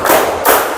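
Two broad, smeared hand claps about half a second apart during a classroom clapping game, close and fairly loud with no talk over them.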